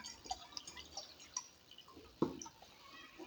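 Water drips and splashes softly while being poured into a container while making boondi laddu, faint scattered drops with one sharper splash, quiet and without talking.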